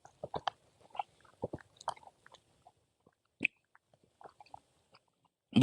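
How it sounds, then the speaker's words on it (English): Someone chews a Hershey chocolate bar close to the mic, producing soft, irregular clicks and crunches with quiet gaps, faint overall. "so if you hear me chewing, I apologize."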